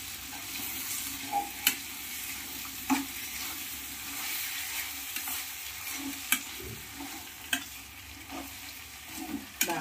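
Soaked poha is stirred into a hot tempering in a pan, giving a low, steady sizzle. A spoon scrapes and clinks against the pan at irregular intervals, several sharp knocks standing out, with no talking.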